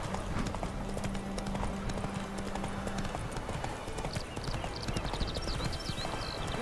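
Horse hooves clip-clopping in the Witcher 3 video game, a steady trotting rhythm that continues throughout against background game sound, with a brief tonal hum early on.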